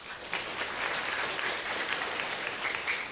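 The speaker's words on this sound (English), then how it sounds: "All right, clap." A room full of people clapping steadily at a school graduation ceremony, a dense, even patter of many hands that holds for a few seconds.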